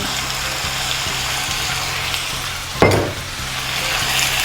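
Chicken curry with turmeric being stirred in a pan, Jaffna style: a steady sizzling fry with soft spoon scrapes throughout, and one louder clatter near the end.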